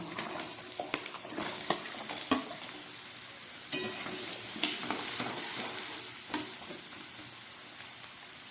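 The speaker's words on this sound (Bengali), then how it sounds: "এবারে কেটে রাখা আলুগুলো আমি ভেজে নেব।" Steady sizzling of potatoes frying in oil, with a spatula scraping and stirring the pan in occasional clattering strokes; no voices.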